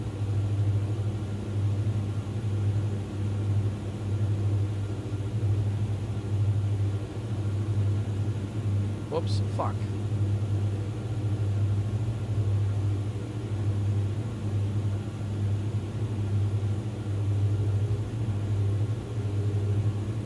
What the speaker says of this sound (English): CD-135. 4-cylinder inline diesel cycle engine.